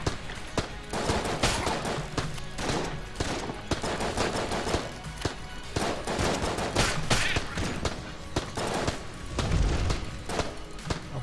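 Dense, continuous gunfire fills the bullet-hell game Enter the Gungeon, volleys of rapid shots and bursts overlapping for the whole stretch with no talking.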